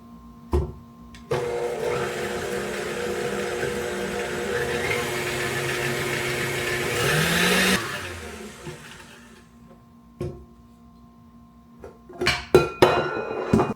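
An electric mixer creams butter, cream cheese and monk fruit sweetener, running steadily for several seconds with a whirring hum, then stopping, followed by clinks and knocks of utensils against the bowl.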